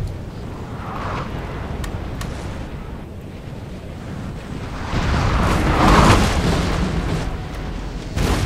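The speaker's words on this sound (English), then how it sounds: "They have like 10 million cannons!" Cannon artillery fire in the Napoleon: Total War battle game, heard as distant rumbling booms over a steady windy wash, swelling louder toward the end.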